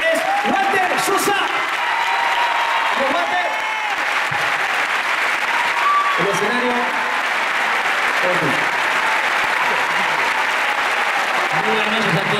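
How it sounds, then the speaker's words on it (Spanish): Steady, loud audience applause at the Gran Rex theatre fills the clip throughout, with a voice speaking over the clapping and cheering. "Muchas, pero muchas gracias por el aplauso que me han dado."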